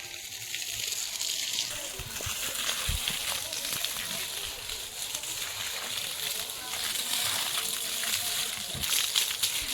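Water is poured onto a dusty rural road in the Sundarbans, a steady close sloshing gush running throughout with brief splashes, while a person talks over it.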